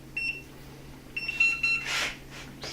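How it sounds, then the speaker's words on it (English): A kitchen timer is set during home cooking, giving a short, close series of high electronic beeps followed by rustling kitchen noise. "Let's set that timer for another 3 minutes."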